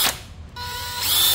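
Panasonic 18V cordless three-function drill giving brief mechanical whirs and a rising motor whine, with ratcheting clicks near the start and end; close and moderately loud, no talking.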